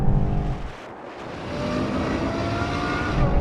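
A BMW M8, a Nissan GT-R and a Ferrari V12 racing, with loud, sustained engine roar that dips briefly and then swells again, close and steady with no talking.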